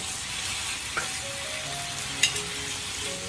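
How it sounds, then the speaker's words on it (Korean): Ham stir-frying in a pan with a sugary sauce, a steady crackling sizzle with a few light utensil clicks and taps against the pan, close and continuous. "준비해 놓은 햄을 올려서 볶아주세요"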